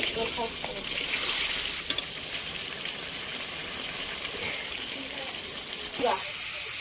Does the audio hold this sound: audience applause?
no